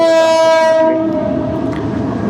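A train at the Bogura rail crossing near the Azizul Haque College campus, after rain, sounds its horn loudly and close by. The strong tonal blast fades after about a second into the rumble and clatter of the passing cars.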